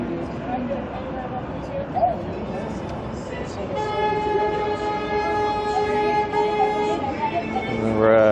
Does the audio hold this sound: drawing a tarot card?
no